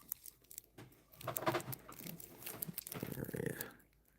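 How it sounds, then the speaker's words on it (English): Crisp, crunchy bites and chewing of an apple, close to the microphone and fairly loud, with irregular bursts of crunching over about four seconds and no talking. "Is it just because I'm chewing the apple that it sounds so loud?"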